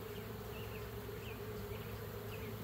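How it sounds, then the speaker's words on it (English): Honey bees shaken off a hive frame during summer splits fill the air with a steady, dense droning buzz, close and continuous, with a few individual bees whining past. "Well, maybe I'll take another shake of bees."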